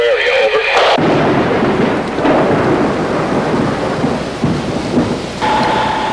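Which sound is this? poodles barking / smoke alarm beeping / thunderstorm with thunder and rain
thunderstorm with thunder and rain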